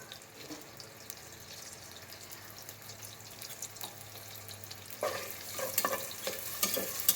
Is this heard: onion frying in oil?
yes